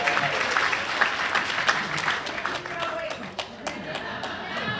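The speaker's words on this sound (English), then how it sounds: "Go ahead, now you can clap." A school hall of fame audience claps steadily, a dense, fairly loud wash of applause with sharp individual claps standing out, lasting the whole stretch without fading.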